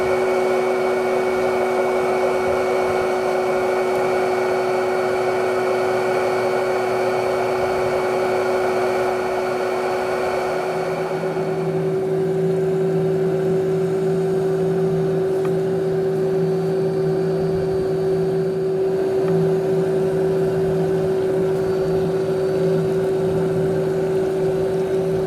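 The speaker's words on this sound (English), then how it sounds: "So now we're going to start the vacuum." A Matala Power Cyclone pond vacuum runs on an 8,000-gallon pond, giving a loud, steady motor drone with a constant hum, which shifts to a slightly different pitch partway through and keeps going without pause.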